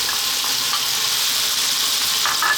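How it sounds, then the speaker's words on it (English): Onion sizzles and fries in hot oil in a pan for a potato curry, a loud, continuous crackling hiss close up, with no talking. "We're now going to drop in our onion."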